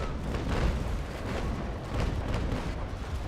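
A frigate fires a cannon broadside in the naval video game Naval Action Legends: dense, overlapping heavy booms merge into a continuous loud rumble that swells, dips briefly and swells again.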